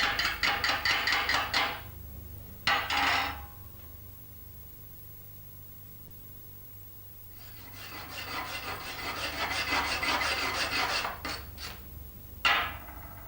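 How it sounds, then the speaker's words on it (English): Rapid metallic chipping and scraping in bursts separated by pauses, a chipping hammer striking and rasping slag off an arc weld bead up close, with no voices. "using the chipping hammer to remove the slag left on the weld"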